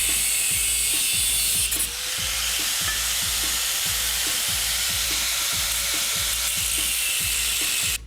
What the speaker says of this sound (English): I'm bolting the manifold back on to check the clearance.